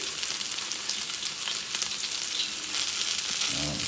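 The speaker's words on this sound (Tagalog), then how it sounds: "sabay na natin sa gisa ang hibe" Onion, garlic and dried shrimp sautéing in a pan give a steady, close sizzle and crackle that runs throughout, with a slight swell toward the end.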